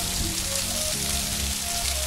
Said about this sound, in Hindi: बारिश हो रही है बहुत तेज